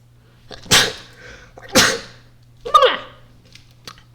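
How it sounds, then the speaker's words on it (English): Three sharp bursts of a person sneezing in quick succession, loud and close, each a sudden broadband blast, with a low steady hum underneath and a few faint clicks after. "I'm about to sneeze."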